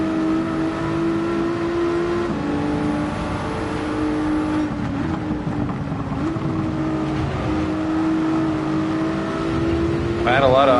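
An Aston Martin GT4 race car at Brands Hatch pulls hard down the straight, its engine a loud, steady drone that rises in pitch through the gears, heard from on board with a voice over it.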